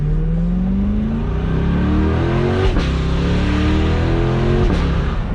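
A C8 Corvette fitted with an aftermarket exhaust accelerates hard from the cabin, its loud engine note climbing steadily in pitch through one gear, a quick shift, and another rising pull.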